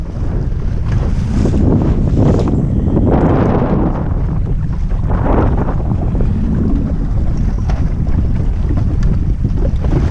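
A sailboat sailing upwind in swell, pushing into the waves: loud wind buffeting the microphone over the rushing, splashing water of the hull slapping through waves, continuous and close.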